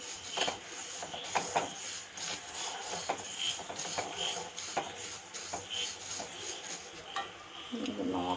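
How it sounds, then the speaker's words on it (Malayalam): Black sesame seeds roasting in a pan are stirred patiently, giving a continuous gritty rubbing and scraping with small rhythmic rasps, moderately quiet and close. "നമ്മൾ ക്ഷമയോടുകൂടി ഇത് ഇളക്കി കൊടുക്കണം. കരിഞ്ഞു പോവാനും പാടില്ല"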